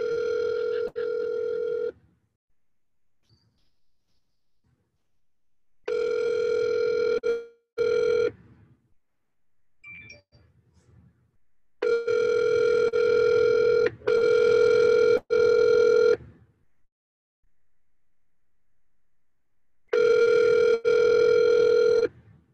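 Outgoing telephone ringback tone on a cold call, repeating in loud steady bursts with silent gaps between, ringing alone with no talk.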